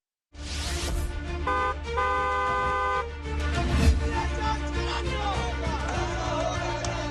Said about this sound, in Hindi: दूसरों को भी सावधान करने के लिए हॉर्न बजाए।